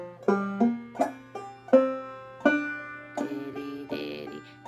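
A plucked string instrument, likely a clawhammer-style banjo, plays a phrase of the Boxing Day waltz with hammer-ons, pull-offs and drop-thumb notes, each pluck ringing and decaying in a lilting rhythm, close and clear with no talk.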